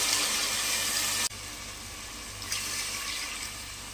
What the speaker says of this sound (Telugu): ఇందులో మనము ఎసరుకైతే వాటర్ అయితే పోసేస్తున్నాము.